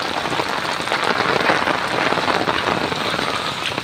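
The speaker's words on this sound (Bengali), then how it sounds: "প্রচণ্ড রকম বৃষ্টি হচ্ছে," Heavy rain pours down steadily, a dense, loud hiss of drops striking surfaces with no break and no voices.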